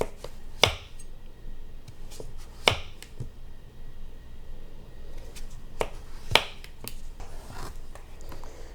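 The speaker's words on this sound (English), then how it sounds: "Now I sliced this up with the Rada Stubby Butcher." A Rada Stubby Butcher knife slices through squash on a board, a few sharp, sparse cutting taps spaced seconds apart over a low background hiss.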